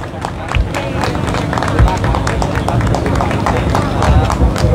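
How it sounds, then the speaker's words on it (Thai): A crowd at a public forum at the Thai parliament applauds steadily for the whole stretch, a dense patter of many hands mixed with voices talking over it. "ขอเสียงปรบมือให้ด้วยครับ"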